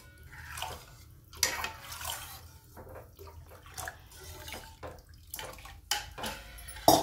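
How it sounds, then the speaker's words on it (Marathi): Water pours and splashes into a pot of cooked dal with tomatoes and spices, in uneven gushes and trickles at close range, with no one speaking. "आवश्यकतेनुसार पाणी टाकून घ्यायचं"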